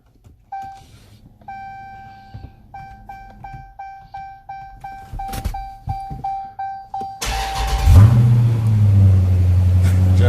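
A Dodge car, one of the Mopar models such as a 2022 Ram TRX or a Challenger, sits through a string of regular dashboard chimes and beeps before its engine cranks and fires into a loud, steady idle rumble.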